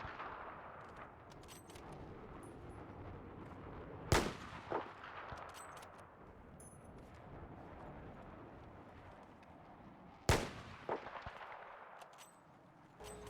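A bolt-action rifle in a shooting simulator game fires two single loud shots several seconds apart, each followed by a short echo and the clack of the bolt, over quiet ambient background.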